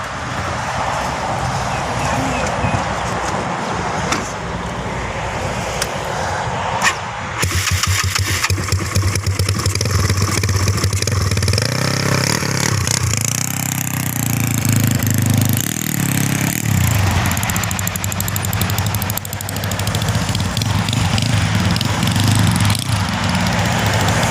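Yamaha Mio scooter engine on a test ride, a loud buzzing motor that revs and idles over about twenty-four seconds, with brief voices and handling noises at the start before steady running.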